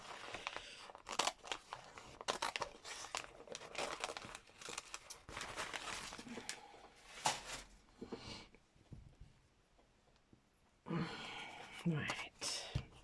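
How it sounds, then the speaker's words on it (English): Scissors cutting foil for a wall hanging, giving a run of close, crisp crinkling snips and rustles in uneven bursts, with a short quieter pause before more cutting. "Let's try these scissors, they might work."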